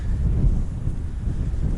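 Low, rumbling wind buffets the microphone steadily while ice fishing for perch, a dull continuous roar with no voices.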